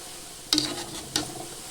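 Undalakaalu dough balls fry in a pan with a soft continuous sizzle, broken by two brief bright scraping stirs, close and without talk.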